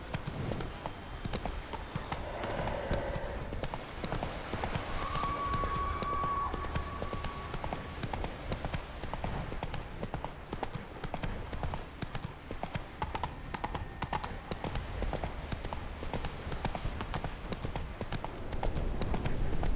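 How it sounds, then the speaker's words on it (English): Rapid, rhythmic hoofbeats of a horse galloping in The Witcher 3 video game, carrying on steadily and close for the whole stretch over a dense wash of outdoor game ambience, with a faint whinny partway through. "Whoa there, Roach. Come on, Roach"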